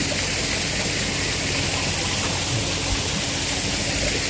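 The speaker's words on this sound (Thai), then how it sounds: "ครับมีน้ำตกครับ" A waterfall at a temple garden shrine in Kalasin, Thailand, roars as a steady, loud, broadband wash of falling water, constant and unbroken with no voices.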